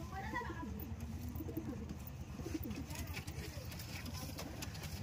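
Giribaz pigeons cooing in repeated soft throaty bursts close by, over a constant low background hum.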